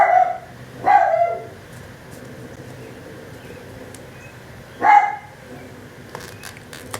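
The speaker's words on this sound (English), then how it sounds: "I don't know what they're barking at." A couple of sharp dog barks ring out nearby inside a home, one near the start and another about four seconds later, with quiet room tone and faint clicks between them.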